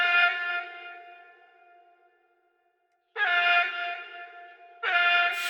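Sung vocal ad-lib phrases drenched in reverb and delay, each held note trailing off into an echoing tail before the next loud phrase cuts in.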